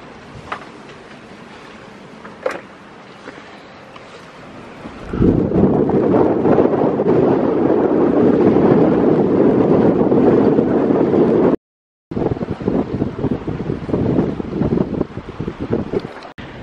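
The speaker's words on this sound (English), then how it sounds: "the wind that was predicted to come in tomorrow, you know, pretty hard and heavy, it is here today" Strong wind buffets a sailboat anchored in Titusville, starting as a lighter breeze, then surging into a loud, sustained roaring gust with a brief dropout before continuing, water faintly beneath.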